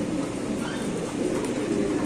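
White Bombay pigeons at a pigeon farm coo in a steady, low, throaty murmur that runs unbroken for a couple of seconds, fairly close, with no one talking.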